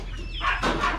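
Chickens being fed black soldier fly (BSF) larvae, with a few soft clucks and fowl calls rising over a low steady background, close and moderate in level.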